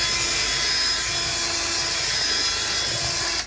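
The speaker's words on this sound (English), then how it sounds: "Get your drill brush." A drill brush scrubs a truck's cleaner-soaked floor with a steady, close, abrasive whirring rub that runs continuously before cutting off at the end.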